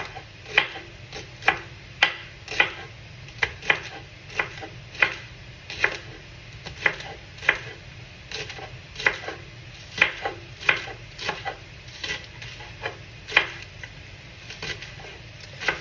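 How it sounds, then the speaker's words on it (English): A knife chops fresh green onions on a cutting board, steady rhythmic taps repeating through the whole stretch, close and crisp with no talking. "now I'm going to cut up some fresh green onions"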